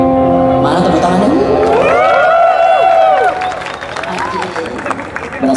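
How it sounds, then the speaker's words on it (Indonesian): An audience at a live rock concert at a festival breaks into applause and cheering, with clapping and crowd noise around whistles and a ringing tone. The applause thins partway through. "Mana tepuk tangannya?"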